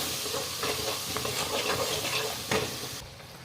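Turmeric, chili powder and garam masala are stirred in a hot pan for pasta masala, the spoon scraping steadily over a continuous close sizzle.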